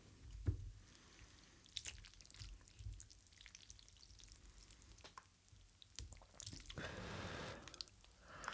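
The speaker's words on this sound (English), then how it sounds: "Let's start off with a little slurp." Close, wet slurps and chewing of beef pho takeout, intermittent mouth sounds with soft squishes and short pauses, no talking.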